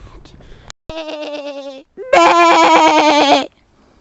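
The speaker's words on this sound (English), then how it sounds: "Oh, black sheep." Sheep bleating loudly and close by on the Isle of Skye, Harris and Lewis, two long wavering bleats separated by a short pause, with quieter sounds before them.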